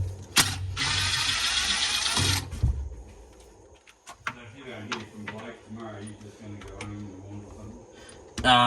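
A ratchet works at a bracket bolt on a blown-up MerCruiser boat engine, giving bursts of close mechanical clicking and clattering among tool clanks, with voices talking over parts of it.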